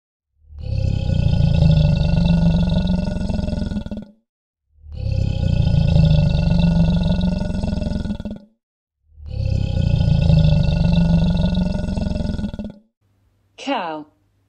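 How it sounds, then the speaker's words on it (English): Crocodile calls for a children's animal-sounds lesson: three long, loud, deep growling roars, each about four seconds with short pauses between, then a brief tonal sound at the end. "Crocodile."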